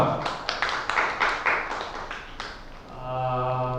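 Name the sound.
audience applauding at event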